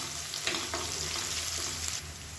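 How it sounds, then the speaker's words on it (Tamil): Onions sizzle steadily in a hot pan, a constant crackling fry with occasional stirring scrapes and no talking. "இப்போ வெங்காயம் ஓரளவுக்கு வதங்க ஆரம்பிச்சிச்சு."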